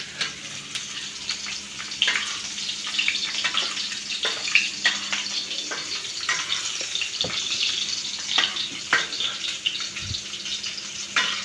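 Onion and garlic sizzle steadily in a hot pan while the mixture is stirred, a constant close crackle with occasional scraping clicks and a brief clatter near the end.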